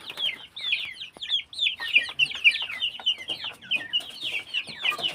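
Rhode Island chickens cluck in a steady run of short, repeated calls through a backyard flock, fairly close and continuous, with a faint rooster-like note mixed in.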